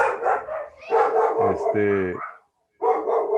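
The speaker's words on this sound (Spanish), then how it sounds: "Disculpen ahorita que tengo un perrito ahí" A small dog barks at home, a few sharp, bright yips near the microphone, interleaved with a person speaking in the foreground.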